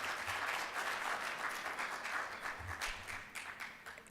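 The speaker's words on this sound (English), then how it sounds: "So can we give him a round of applause?" A seated audience at an investment managers' forum applauds a speaker. Soft, continuous clapping at a distance swells and eases over a few seconds, with no talk.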